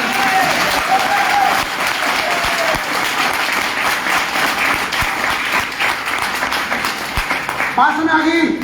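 Loud, sustained clapping from a large seated audience at a motivational talk, dense and continuous, with voices and a few shouts mixed in and a brief whistle-like tone near the end.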